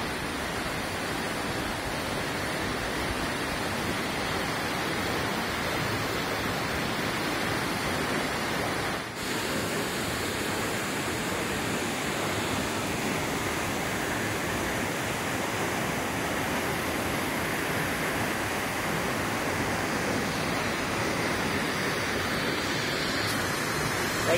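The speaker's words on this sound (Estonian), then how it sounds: "Collillo del Salto on siis juga." Chorrillo del Salto waterfall at a hiking trail's end, a steady loud roar of falling water that continues unbroken with no talk over it.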